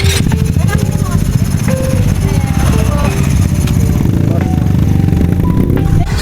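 A motorcycle engine runs steadily and loudly up close with a constant buzzing drone, and voices can be heard faintly beneath it.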